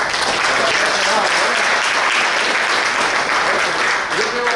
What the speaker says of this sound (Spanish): cualquier fuerte aplauso.